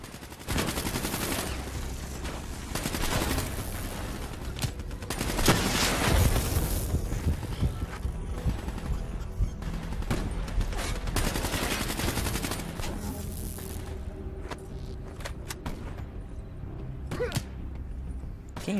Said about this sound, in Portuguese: Quem é que tá atirando em mim?